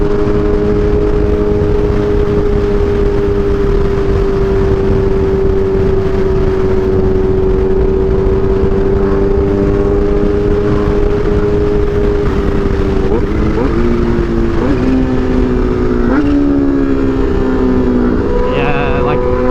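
A Kawasaki Ninja H2 motorcycle engine held at high RPM makes a loud, steady, droning whine that dips and rises in pitch over the last several seconds, with rushing wind noise underneath.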